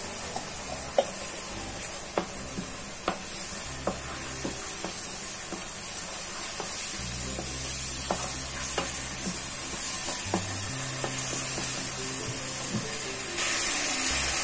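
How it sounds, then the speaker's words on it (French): Chopped onions and tomato fry in a pan with a steady sizzle, while a utensil taps and scrapes the pan at intervals, close and clear with no talking. "Nos oignons rissolés, on ajoute la tomate."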